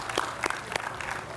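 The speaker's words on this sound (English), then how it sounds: "Another round of applause for Councilwoman Cooper" An audience at a Go Red Heart Walk ceremony claps, with a few distinct sharp claps standing out over a soft, steady bed of applause in a brief burst.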